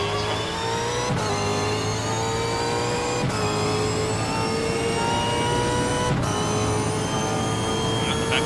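Super 2 race car at the Tasmania round, engine held at a high, steady scream under full throttle, loud and close, broken by three brief dips at upshifts.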